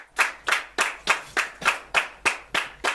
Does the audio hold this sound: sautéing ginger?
no